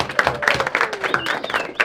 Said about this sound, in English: Everybody give Miss Hoover a round of applause inside here.